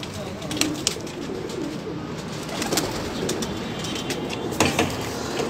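Pigeons kept in pairs on a rooftop coo softly and intermittently, close by, with light rustling and scattered clicks in the background.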